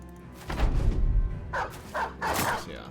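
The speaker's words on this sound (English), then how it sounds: "So yeah, the dog will get him." A dog barks in a Battle Brothers Legends mod battle, a few short sharp barks in the second half over busy combat noise and voices.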